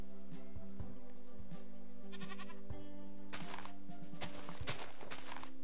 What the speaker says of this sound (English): Come on, you silly little goat.